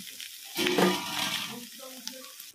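Fish curry sizzling and frying in a pan after ghee and garam masala go in, a loud burst of crackling and stirring that settles into a softer bubbling sizzle with small pops.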